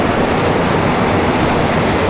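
Water rushes steadily in a stream in the Monadhliath hills, a close, continuous broadband wash with no pauses and no voices.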